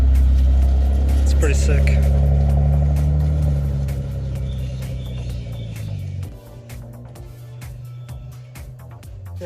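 A Nissan Z car's engine hums loudly nearby, then fades as it drives away, with someone talking over the receding sound.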